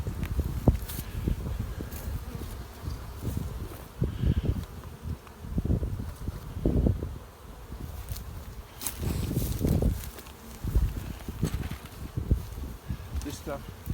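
Honeybees hum around an opened hive being fed syrup from a bucket, a steady low buzz beneath intermittent handling knocks, rustles and footsteps, with a person talking at times.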